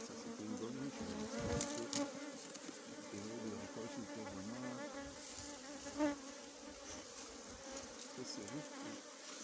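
Honeybees buzz steadily around a hive set on a faulty stand built from local materials, a dense continuous drone close by with no voices.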